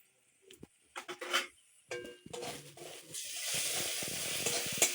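A spoon stirs turmeric, chili powder and salt into frying duck egg curry in a home kitchen: scattered scrapes and clinks at first, then a steady, close sizzle of oil building and holding to the end, with no voices.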